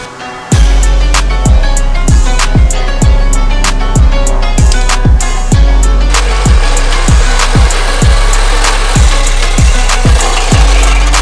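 A lightweight manual reel mower rolling over a newly seeded lawn, its blades clicking and whirring in a loud, fast repeating rhythm that runs steadily throughout.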